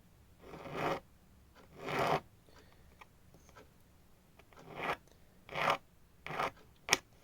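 A hand file sharpening a drill bit, six separate rasping strokes with short pauses between them, close and clear against a quiet background.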